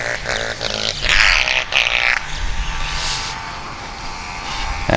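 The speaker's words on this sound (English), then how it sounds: "Sorry about that motorcycle noise," Dirt bike motorcycle passing at a park, a rough engine roar rising and swelling in the first couple of seconds, then fading into a steadier distant drone, alone without talk.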